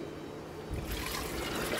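Water poured into a bowl of soaked dal, a soft liquid splash and trickle that starts partway through and continues steadily up close, with no voices.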